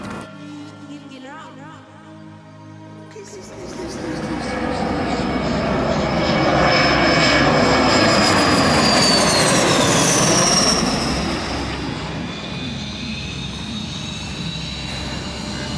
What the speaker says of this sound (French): Dès que l'avion a posé, il arrive sur le tarmac devant le hangar.